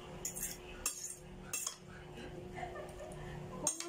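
Utensils clink and scrape against a bowl while an eggplant salad is mixed, with quiet, irregular bursts of tapping and stirring close to the microphone.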